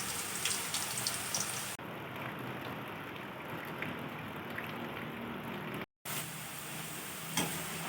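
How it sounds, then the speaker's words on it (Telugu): Rain falling outside makes a steady, soft patter with occasional louder drips, quiet and unbroken by voices. "మా దగ్గరనైతే వర్షం పడుతుంది ఈరోజు అయితే."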